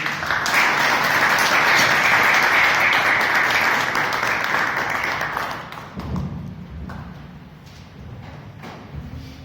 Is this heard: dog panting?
no